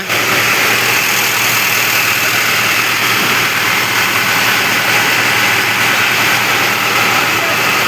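A Mahindra tractor engine idles at a repair shop, a steady, loud mid-to-low running drone throughout with no change in pace, along with faint background noise.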